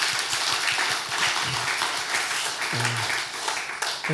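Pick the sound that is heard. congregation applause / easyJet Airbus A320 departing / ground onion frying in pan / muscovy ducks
congregation applause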